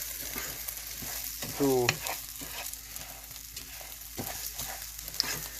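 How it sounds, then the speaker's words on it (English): Hot oil sizzles softly and steadily in a pan while cooking for chiles en nogada, with a brief scraping stir and faint clinks over the continuous hiss. "you can listen how is the oil making noise, that the pan is already ready"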